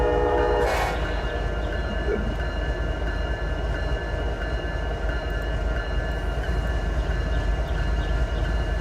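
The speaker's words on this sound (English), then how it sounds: "Listen closely to this horn." A train horn sounds one short, loud blast that echoes off buildings in a small Georgia town on a quiet Sunday morning, then a lingering diesel rumble carries on with no talk.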